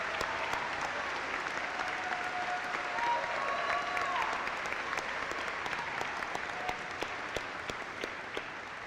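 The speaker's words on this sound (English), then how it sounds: "give them a round of applause for everything they've done for you" Sustained applause fills a school gym at an army cadet graduation ceremony, honoring the cadets' families, a steady dense clapping from a large audience that runs evenly throughout with slight tapering near the end.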